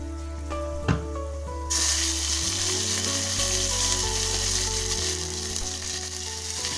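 Dried red chillies and curry leaves hit hot oil for a cherupayar (green gram) curry tempering, bursting into a loud, steady, close sizzle that swells suddenly after a brief clatter and holds without any talk.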